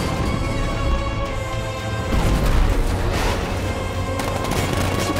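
A 70mm tank cannon firing in the Batman Arkham Knight video game comes as dense, continuous booming gunfire with rumbling blasts layered under game ambience, loud and sustained across the whole stretch.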